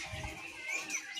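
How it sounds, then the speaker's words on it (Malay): Songbirds chirp and twitter outdoors near pigeons in Jantho, Aceh Besar, with a few short, fairly close tweets and soft coos over quiet background. "di belakang saya ini banyak sekali jenis burung berkicau ya"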